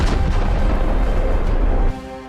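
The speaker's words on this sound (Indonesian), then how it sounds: "Akhirnya Stervan meledak bersama bomnya." A bomb goes off in a fantasy action film: a loud, dense, rumbling blast that fills the clip for about two seconds and then cuts off abruptly.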